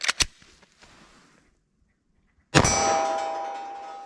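A pistol magazine drops free after a .45 ACP+P shot: a few quick metallic clangs, a moment of near silence, then a loud bright metallic clang that rings and slowly fades. No speech.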